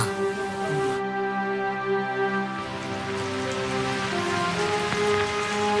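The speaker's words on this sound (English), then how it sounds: "By late April, the first promise of the monsoon, the so-called mango rains, were falling." Steady, heavy monsoon rain, the early mango rains of late April, pours down continuously as a dense hiss with close spattering on surfaces, loud and unbroken throughout.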